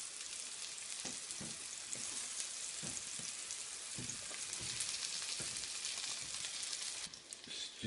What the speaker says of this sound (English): we are going to add the onions. Just fry them lightly.